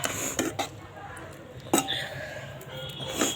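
Food being stirred and mixed in a bowl during an outdoor picnic cooking session, with a few scattered clinks and scrapes of utensil against dish, close, while people talk in the background.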